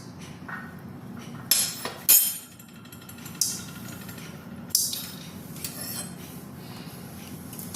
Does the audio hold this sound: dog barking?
no